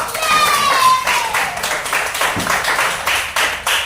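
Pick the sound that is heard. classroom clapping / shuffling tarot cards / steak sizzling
classroom clapping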